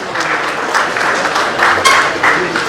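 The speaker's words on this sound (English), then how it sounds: "Everyone, let's make a round of applause for Mr. Pramod Agrawal, who's just joined us on the stage." Audience at the inaugural session of a gems and jewellery conference in Jaipur giving a round of applause as a guest walks onstage, a loud, continuous burst of clapping filling the hall.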